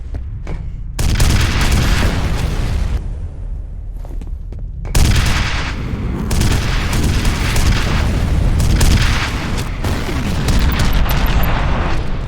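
Loud, sustained gunfire in the F.E.A.R. shooter, with dense rapid shots and heavy booms running almost continuously, broken only by a brief lull.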